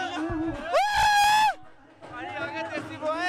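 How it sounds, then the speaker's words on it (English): A crowd of boys at Luton Mela yelling and cheering: loud, close, excited whoops and a long sustained shout rise over babble and shouted voices, dipping briefly before another burst of yelling. "I've got some crazy boys making so much noise and having so much fun"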